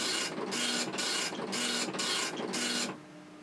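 A printer attached to a Tandy computer running SCRIPSIT prints in four quick, loud mechanical bursts with short pauses between them, then drops to a faint hum.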